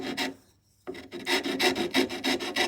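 A rasp files a wooden guitar neck in a quick run of rhythmic rasping strokes, close and loud, with one short silent pause near the start before the strokes resume.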